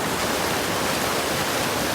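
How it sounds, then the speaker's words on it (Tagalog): Rushing water at Zamora Falls, a steady dense roar of falling water and channel flow, loud and continuous with no voices. "Talagang kitang-kita natin yung lumaragasang tubig ng kanaling dito."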